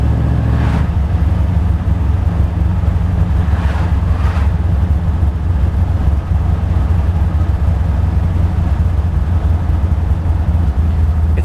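A car engine fitted with an Edelbrock VRS 4150 carburetor runs continuously, a loud, close, steady low rumble with slight roughness and no talk over it.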